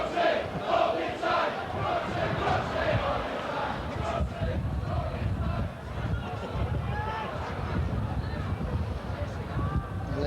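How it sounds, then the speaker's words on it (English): A Leeds rugby league crowd jeers and shouts at a player during a 1990 match against Castleford, a rowdy mass of voices rising and falling under continuous commentary. "Lee Cook's getting the bird from some of the Leeds crowd"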